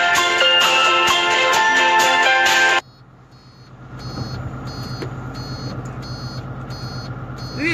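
A tow truck's reversing alarm beeps loudly in a fast, steady series, then cuts off and gives way to a low engine rumble with sparse, fainter beeps continuing in the background.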